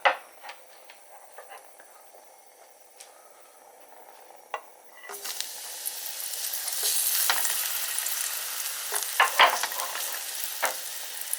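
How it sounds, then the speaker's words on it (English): Mushrooms sizzling steadily in a hot oiled frying pan, the frying hiss growing louder halfway through, with occasional scrapes and clicks of stirring. "Get that lovely sound of sizzling mushrooms."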